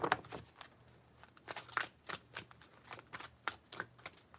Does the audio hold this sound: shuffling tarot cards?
yes